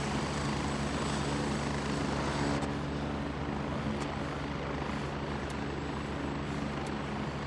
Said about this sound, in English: Go inside to dampen the helicopter sound a little.